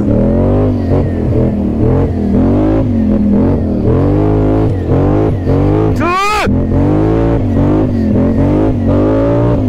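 A Polaris Sportsman XP1000 S ATV (2025) revs hard off-road in loud repeated surges, with one sharp high-pitched sweep midway. Engine roar dominates and talk is mixed underneath.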